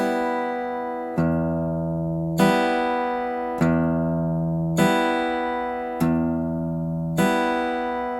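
A beginner's fingerstyle guitar pattern of alternating thumb and finger picking sounds as clear, ringing notes plucked in an even rhythm about once a second, each sustaining into the next, with no talking.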